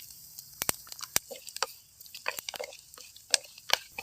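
Dried ivy gourd slices (kovakkai vathal) hit hot oil in a village kitchen, giving scattered sharp crackles and pops over a soft sizzle, close and irregular.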